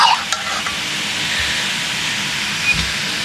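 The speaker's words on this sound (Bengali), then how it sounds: "এবার আলুগুলো দিয়ে দিচ্ছি। আলুগুলো এর সঙ্গে ভালো করে নেড়ে নিয়ে একটু" Potatoes stirred and fried with mutton for a curry, a steady close sizzle and hiss with a couple of light utensil knocks near the start.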